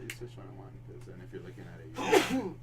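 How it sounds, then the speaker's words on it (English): A single sharp sneeze bursts out near the end, close and loud, rising above ongoing casual talk among several people. "I'm gonna sneeze with my mouth open next time."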